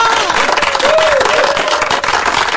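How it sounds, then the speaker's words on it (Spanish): Studio audience on a Spanish-language radio show at Magic FM 96.5 applauding the guests, a dense burst of clapping and crowd noise with a voice rising briefly over it. "un aplauso grandísimo para Timothy Nadal y Humphrey Obispa"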